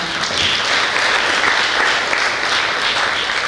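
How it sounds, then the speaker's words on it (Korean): Forum audience at the 2026 Suseong International Biennale pre-biennale giving sustained, even applause, a thick wash of many hands clapping without a break. "여러분 역시 큰 박수 보내주시기 바랍니다."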